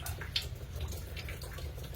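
Water leaks from a ceiling and drips into buckets, a faint, continuous spattering and trickling with scattered drip impacts, heard alone at low level.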